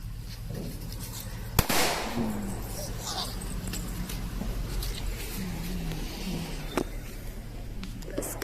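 A single sharp firecracker bang bursts on Vishu eve, followed by a second fainter pop later, amid family chatter and outdoor background noise.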